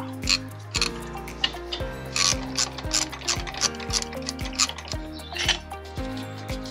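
A 21 mm ratcheting wrench loosens a locknut on the front brake caliper of a Ford Ranger, giving rapid, crisp pawl clicks in steady bursts, close and distinct with no talking.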